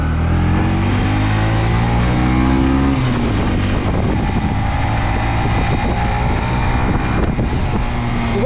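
A 2025 Honda CB125F motorcycle riding along, its small single-cylinder engine droning steadily with rising and falling pitch through gear changes, mixed with constant wind rush at the microphone.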